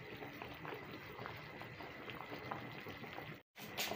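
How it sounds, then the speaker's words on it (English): Ogbono soup bubbles steadily in a pot, a quiet continuous simmer of small pops and gurgles, briefly cut off by a short silence before resuming. "So allow this to boil very well"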